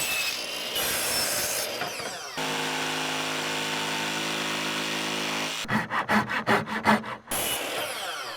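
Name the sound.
sawing wood baseboard trim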